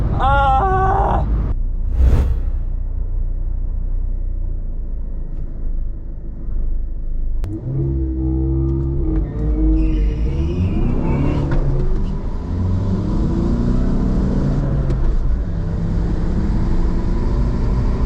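A Volkswagen car on a drag race test run revs and accelerates hard, its engine rising in pitch through gears with a loud, close, continuous roar and a brief gear change break.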